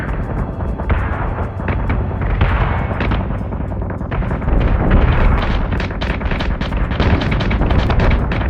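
Ship weapons in the space battle game Battlestar Galactica Deadlock fire in a dense, loud barrage of rapid booming shots and rumbling blasts that builds toward the end, with no talk.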